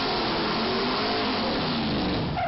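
A car does a burnout while driving over a painted street mural, giving a loud, continuous roar of revving engine and spinning tires heard up close and distorted, with no pause.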